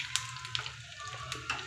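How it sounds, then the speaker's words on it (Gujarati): Cumin, sesame seeds and curry leaves crackle and sizzle in hot oil for a dhokla tempering, with a steady close frying hiss punctuated by sharp pops, no talking. "તેલ ગરમ થઈ જાય પછી આપણે એમાં જીરું નાખીશું, થોડા તલ નાખીશું અને થોડા લીમડાના પત્તા નાખીશું"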